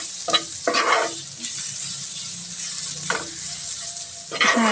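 Grated beetroot frying in a pan is stirred in a few separate scraping bursts over a continuous soft sizzle, with no talking.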